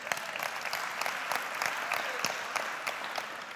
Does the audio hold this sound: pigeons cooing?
no